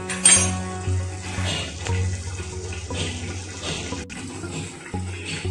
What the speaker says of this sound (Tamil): நான் இந்த அளவுக்கு தான் தண்ணி சேர்த்துக்கிறேன்